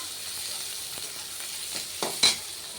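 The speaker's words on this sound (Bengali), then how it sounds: "একসাথেই ভাজা হয়ে যাক" Spices fry together with onion and tomato in a pan, a soft continuous sizzle broken by a few sharp stirring scrapes near the end, with no voices.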